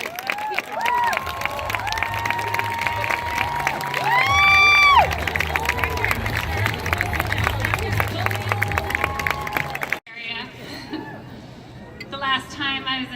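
A large crowd at a 2018 Women's March rally roars and cheers in a dense, sustained wash with whistles and shouts, loud and close for about ten seconds before cutting to quieter voices and chatter.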